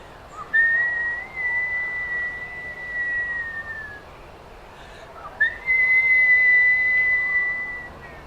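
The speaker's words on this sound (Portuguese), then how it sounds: "E se você assobiar bem assim" A person whistles two long, steady sustained notes separated by a short pause, clear and fairly close with a quiet background.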